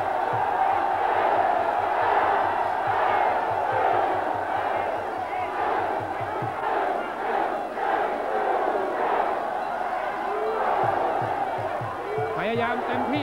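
A large crowd of fans roars steadily at a Muay Thai boxing bout, a dense continuous wall of cheering and shouting with rhythmic chanting bursts rising at intervals throughout.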